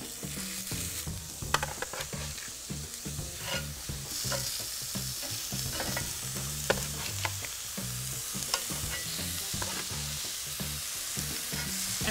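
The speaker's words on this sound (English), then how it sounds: "I'm just gonna get my burgers on there." Burgers sizzling in a hot pan, a dense continuous crackle and hiss with irregular pops and faint clattering underneath, close and even in level throughout, no voices.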